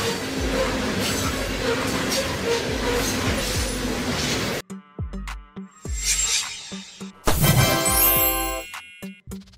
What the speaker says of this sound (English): freight trains transport massive amounts of goods like coal, ore, and containers